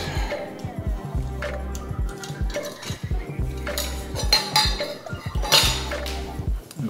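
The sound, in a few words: inserting metal pin into ceiling fan mount nut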